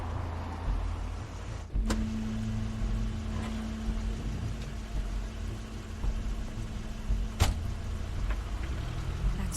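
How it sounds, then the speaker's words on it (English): A car in The Wolf Among Us video game, with a steady engine drone, a sustained mechanical hum starting near two seconds, and a couple of sharp clicks, heard alone without talk. "Craine's car."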